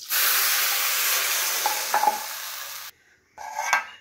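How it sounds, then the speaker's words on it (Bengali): Water poured onto fried rice in a hot pot for pulao sets off a loud, close, hissing sizzle for about three seconds. It cuts off, then a shorter burst of sizzling and stirring follows. "বাড়ায় দিয়ে পানি দিয়ে দিব।"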